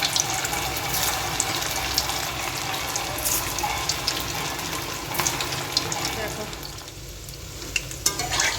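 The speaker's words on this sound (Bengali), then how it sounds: "এবার তেলের মধ্যে আমি আমাদের এই লঙ্কা দেওয়াগুলো দেব।" Green chillies dropped into hot oil in a home kitchen pan, giving a dense, loud crackling sizzle that carries on steadily with scattered pops and stirring noises, up close and without speech.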